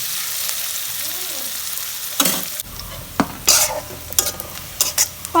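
Onion lightly frying in a pan for a jute leaf dish, a steady close sizzle with bursts of spatula stirring and scraping against the metal, no talking.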